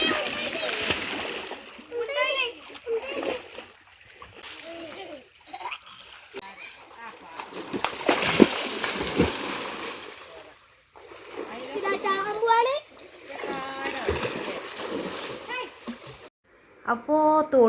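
Children jumping into a stream, with bursts of splashing water and churning that come and go, amid lively kids' chatter and shouts nearby.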